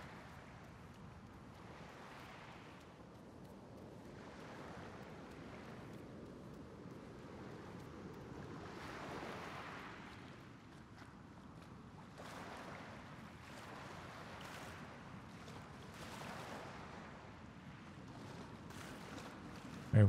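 Waves at the water's edge in Genesis Noir: soft, distant surf washing in slow repeated swells with a faint wind-like hiss, quiet and without speech.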